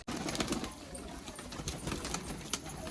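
Malwai pigeons in a loft, their soft cooing and rustling filling a short, busy stretch of sound.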